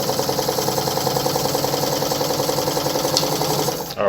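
Meister Werke German sewing machine winding a bobbin with a fast, even mechanical whirr and rhythmic ticking, steady and close for about four seconds before stopping abruptly.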